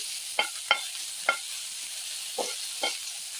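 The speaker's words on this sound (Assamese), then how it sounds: "তাৰপিছত অকণমান তেলত মই এনেকৈ ফ্ৰাই কৰি ল'ম" Boiled fish fries in a little oil with a soft, continuous sizzle. Five short scraping stirs break through at irregular intervals, close by, with no voices.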